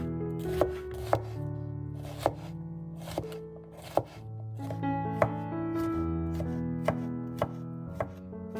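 Bell peppers being chopped on a cutting board for a rice dish: about a dozen crisp, evenly spaced knife strikes ring out close by over steady background music.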